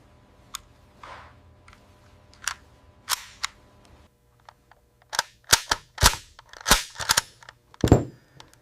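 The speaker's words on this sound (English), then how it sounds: "The action is cycled." An M4 carbine's action worked by hand during a function check, heard as a close, irregular run of crisp metallic clicks and clacks that grow denser toward the end.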